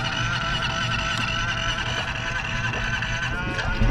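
Honda Rubicon 520 ATV engine running while submerged in water, a steady close rumble with bubbling and a faint honk-like tone throughout.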